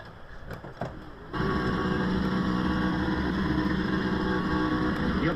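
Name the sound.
race car doing a burnout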